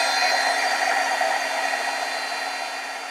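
An embossing heat tool blows steadily close by, setting embossing powder on a diamond-cut steel-effect card; the broadband whoosh runs alone throughout and fades slightly toward the end.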